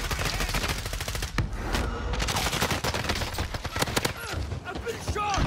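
Sustained gunfire in a battle-royale style video game, a close, loud fusillade of rapid shots with players talking over it.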